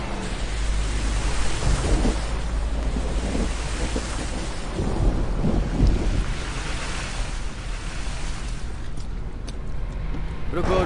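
Thunderstorm in an action film, with heavy rain, gusting wind and deep rolling thunder in a dense, loud wash of noise that never lets up.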